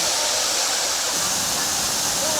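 Bilawa Falls in Maco, Davao de Oro, gives off a steady, loud, broadband roar of falling water that holds constant throughout with no talking.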